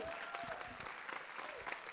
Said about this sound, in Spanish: Y si les gustó, un aplauso bien fuerte.